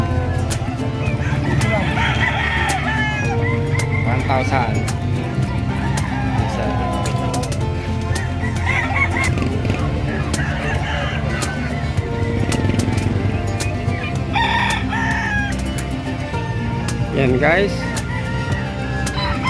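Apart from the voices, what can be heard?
chickens and roosters clucking and crowing at a livestock market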